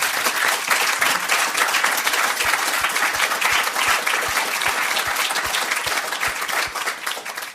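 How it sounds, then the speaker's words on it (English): Sustained audience applause after a panel discussion, a loud, dense crowd of clapping hands that holds steady for several seconds before easing slightly at the end, with no talking. "Big applause, please."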